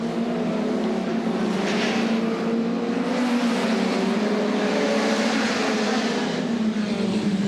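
Superstox racing cars lapping a track in the early 1980s produce a continuous, droning engine roar with shifting pitch, steady and fairly loud throughout with no talk.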